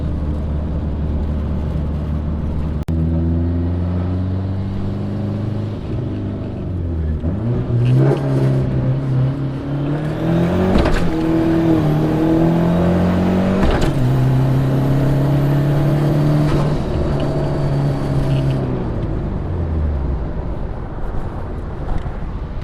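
A Ford Mustang SVO pulls hard through first, second and third gear, its engine note climbing steadily in each gear, dropping at each shift and climbing again. It sounds loud and close, with no talk over it.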